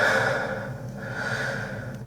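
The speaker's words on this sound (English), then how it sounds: "Orion has been able to find a good audio match there for that breathing, even though the file is not even named" Unedited production recording of human breathing, with a close, soft inhale-exhale cycle that fades out at the end.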